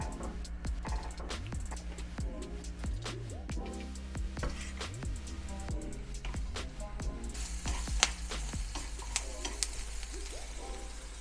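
Vegetables such as bean sprouts and cabbage cooking in a pan over low heat, giving a steady close sizzle and frying hiss with scattered clicks and scrapes of stirring throughout, no talk.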